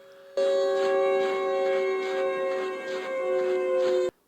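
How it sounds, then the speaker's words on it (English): A siren screech from the Siren Head horror game wails as a steady, harmonic tone with slow pulsing swells, holding for about four seconds before cutting off abruptly. "these loud siren screeches off in the distance"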